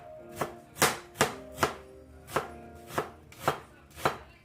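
Onions being chopped with a knife while cooking Bangladeshi-style fried rice, about nine sharp, close, evenly paced chops standing alone in a quiet kitchen.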